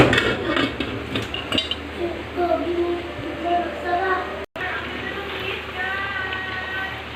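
A metal lid clinks onto a cooking pot of denengdeng, a Filipino vegetable stew, with sharp metallic clatters early on, then softer rattles as a voice talks over the kitchen sounds.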